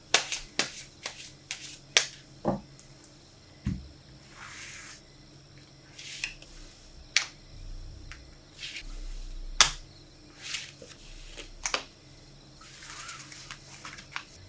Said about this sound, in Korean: 그럼 카드 뽑아볼게요.